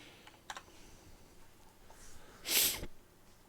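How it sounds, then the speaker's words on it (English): One sharp, breathy sniff close by in a quiet room, preceded by a couple of faint clicks. "Oh, I got the sniffles."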